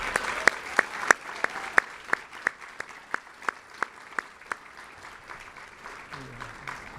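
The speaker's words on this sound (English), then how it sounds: "you all deserve a round of applause." An audience at a Crohn's and Colitis fundraiser gala claps. A steady rhythm of distinct, evenly spaced sharp claps rides over a soft background of scattered applause and fades toward the end.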